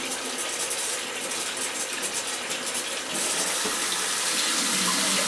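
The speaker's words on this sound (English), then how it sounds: "I leave this with the hot water on full blast" Hot tap water gushes at full blast to rinse a glass bong, a loud continuous hiss of water striking and swirling in glass, alone throughout and getting fuller partway through.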